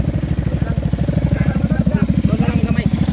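A motorcycle used for hauling pigs runs nearby with a loud, fast, even putter of its engine, a steady rhythmic chug throughout, with faint voices in the background.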